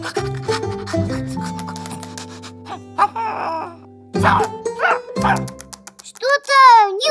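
A cartoon dog barks and whines in a short burst of yaps, mixed with a sustained tonal hum and playful cartoon voices talking around it.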